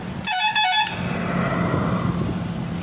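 A car horn sounds one sustained honk, loud and close, on a highway, followed by steady road and engine noise as traffic moves along slowly.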